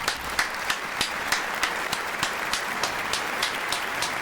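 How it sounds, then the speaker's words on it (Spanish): A small studio audience applauds lightly and steadily, with sparse individual claps standing out in a soft, even patter at moderate distance. "Un aplauso, por favor, Carlos Maipa."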